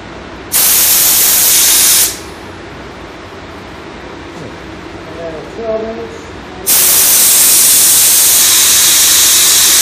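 A Devilbiss JGX-508 paint spray gun hisses loudly at full trigger in two bursts, a short blast early on and a longer steady one near the end, with a quieter stretch between holding faint tones.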